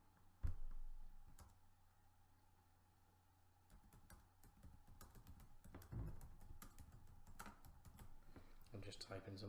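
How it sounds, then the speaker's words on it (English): Computer keys are tapped in short bursts of quick clicks, close by and fairly quiet, with pauses between runs of typing. "I'm just typing something in here so you can see for the exercise."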